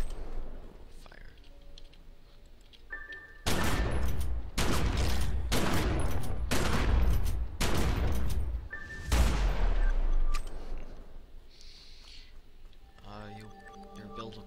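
Assault rifle fire in The Secret World arrives in about six loud, evenly spaced bursts of rapid shots, each a sharp wall of noise, with faint clicking and quieter game sounds between and after them.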